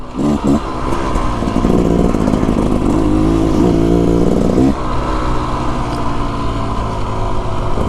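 A 2024 Beta Xtrainer dirt bike climbs a mountain trail toward a pass, its engine loud and close, revving and buzzing with rising and falling pitch over steady rough clatter.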